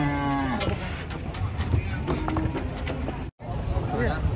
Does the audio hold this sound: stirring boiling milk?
no